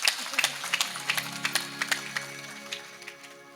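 A Marathi devotional audience claps at a Nath tradition storytelling gathering, a run of sharp, evenly spaced claps that slowly thin and fade over a low sustained tone.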